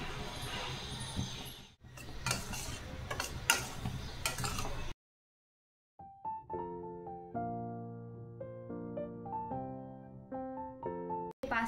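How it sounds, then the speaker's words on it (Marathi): A spoon scrapes and stirs semolina roasting in ghee in a pan, a close rough rattling that continues for about five seconds, then stops; after a short silence, melodic music plays. "आपल्याला रवा मस्त भाजून घ्यायचा आहे"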